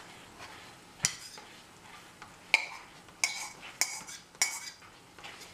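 Smoked turkey risotto being stirred in a pot, with sharp metallic clinks and scrapes of a utensil against the pot at irregular intervals under a faint sizzle, close and clear.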